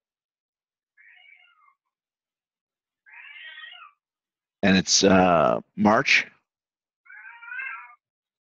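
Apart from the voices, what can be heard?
cat meowing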